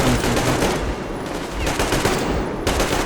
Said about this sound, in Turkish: Kadına sıkıyorum lan